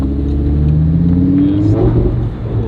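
A car engine revs loudly through its exhaust, the pitch climbing and dropping, close and throaty.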